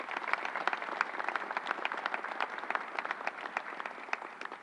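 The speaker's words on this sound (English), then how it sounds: "Let's give him a round of applause." Audience applause at a vaccine site press briefing in a New York City convention center, a steady patter of many hands clapping at moderate distance, fairly quiet and sustained throughout.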